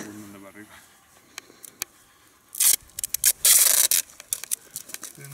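Sticky tape pulled and pressed onto a small cardboard plane, with sharp ripping and crinkling bursts in the middle of the clip, broken by quieter taps and rustles, and a voice briefly speaking at the start.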